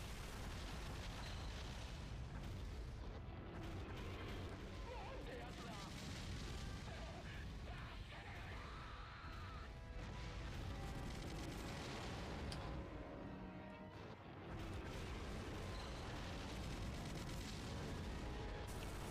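Turrets fire in the Godzilla PS4 video game amid repeated booming blasts and crackling explosions, loud and dense throughout, with a voice talking over parts of the barrage.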